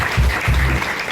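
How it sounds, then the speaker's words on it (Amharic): A church congregation applauds in praise, a steady wash of many hands clapping with a low musical or vocal hum underneath, brief and fairly loud. "አጨብጭቡ ለጌታችን።"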